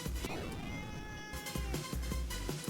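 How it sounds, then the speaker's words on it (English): A house cat meows insistently for breakfast, several short cries in a row, close by and fairly loud. "Getting meowed at."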